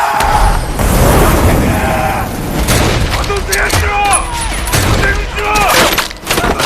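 Gas cylinder explosions burst in a war film battle between Chinese and Japanese soldiers, with heavy booms and crackling gunfire among loud battle noise, then mechanical clanks and a shrill whine, and a voice shouting over them.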